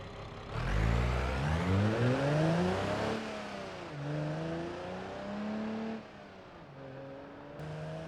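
Simulated car engine in BeamNG v0.27, likely the Stambecco, revving up through several gears with rising and falling harmonic sweeps, loud and close, alone with no talk.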